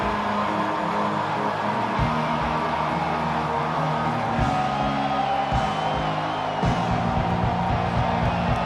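Stadium crowd in EA Sports College Football 25 roars steadily on a third-down defensive stand, a dense, continuous wall of cheering with swelling whoops, heard without any commentary over it.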